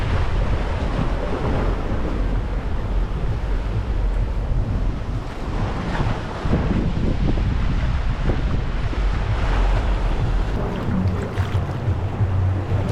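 Aegean Sea waves at Eri Beach on Crete, continuous surf washing and breaking nearby, mixed with gusts of wind buffeting the microphone.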